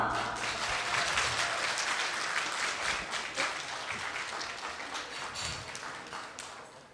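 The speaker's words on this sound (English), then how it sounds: "please join me to give him a round of applause" A room of attendees applauding to welcome China's Consul General in San Francisco, a fairly faint, dense spread of clapping that stays even, then slowly thins and fades toward the end.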